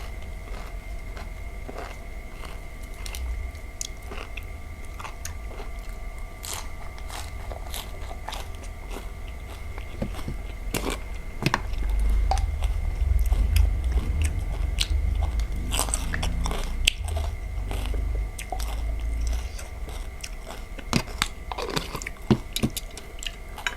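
Close-up chewing of crunchy giant cockles with spicy seafood dipping sauce, with repeated crisp bites, wet squishing and crackly crunches continuing steadily, no talking.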